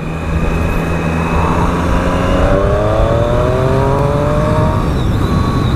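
A 2018 Triumph Street Triple R motorcycle engine accelerates hard, its rising revs sweeping upward steadily over a constant loud wind and road roar, close and without talk.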